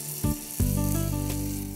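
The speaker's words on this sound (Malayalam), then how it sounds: "നമ്മുടെ തവയൊന്ന് ചൂടായിട്ടുണ്ട്, നമുക്കിതിലേക്ക് ബ്രിഞ്ചോളിനെ വെച്ച് കൊടുക്കാം." Brinjal slices hit a hot tawa with coconut oil and break into a steady, close sizzle that swells after a couple of soft placement sounds and holds on alone.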